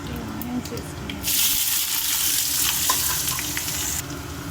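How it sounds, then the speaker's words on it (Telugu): Onions sizzling and frying in hot oil with mustard seeds and cumin for a ridged gourd and moong dal curry, a steady loud hiss that swells as they go in, with light stirring. "అవి చిట్పట్టలాడాక ఈ ఆనియన్స్ వేసుకున్నాము"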